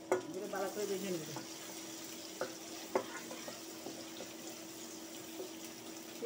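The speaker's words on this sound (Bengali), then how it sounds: "ভালো করে ভেজে নেব" Chopped onion, ginger and garlic fry in a pan with a steady soft sizzle, with a few clanks of stirring and a short watery splash early on, moderately close.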